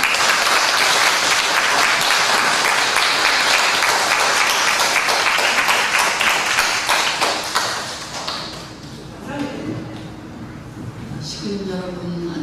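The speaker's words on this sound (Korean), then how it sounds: "큰 박수로 다음 모시겠습니다" Loud, sustained applause from an audience at a Korean church lecture event, a dense clapping roar that fades after about eight seconds, then a voice begins speaking.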